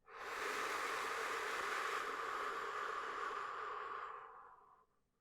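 One long, slow, breathy exhale during a calm breathing exercise, close and soft, fading out gradually over several seconds.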